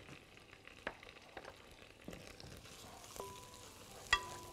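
Garlic clove frying in a pan with sauce, a faint, steady sizzle with a few soft clicks and stirring knocks, close by and alone.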